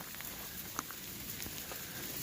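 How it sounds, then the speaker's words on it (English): Rain falls in the Smoky Mountains on an Appalachian Trail thru-hike near Davenport Gap, a faint, steady patter with a few scattered drops and soft ticks. "Heading out now in rain,"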